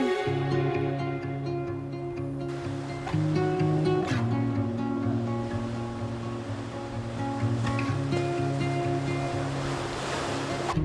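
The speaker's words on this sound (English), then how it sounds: "At high tide, boiling waves crash around the cave's interior" Ocean waves crash and surge around the sea-cave interior of Devil's Punch Bowl on the Mendocino coast at high tide, a continuous loud roar of surf with a steady tonal layer running beneath it.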